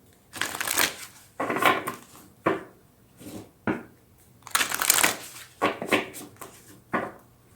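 Oracle cards shuffled in repeated bursts of brisk riffling and soft slapping, close and fairly loud, separated by short pauses, with no talking.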